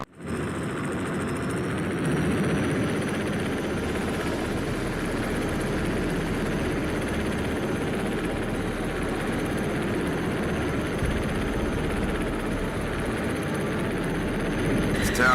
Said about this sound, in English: I'm flying an enemy chopper.